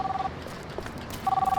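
A mobile phone rings in short, warbling electronic tone bursts, one at the start and another near the end, with a quiet gap between and no talking.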